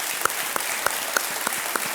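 A studio audience applauds on a televised quiz show, a steady dense clapping with regular sharper claps standing out about every third of a second, loud and close throughout.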